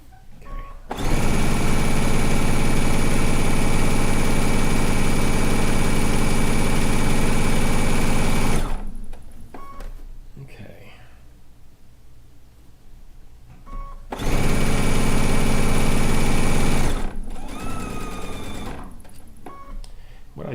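A sewing machine running steadily as it stitches a miter seam on log cabin quilt strips, a loud continuous whirring hum for about eight seconds, a pause, then a shorter second run.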